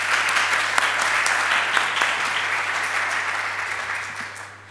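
Sustained applause from a conference audience at a biotechnology talk, dense and loud clapping from many hands that holds steady and then fades slightly at the end.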